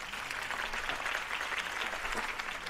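A crowd applauds a political campaign speech in the video game Batman: The Telltale Series, a dense, even wash of clapping held at a moderate level throughout without any talking.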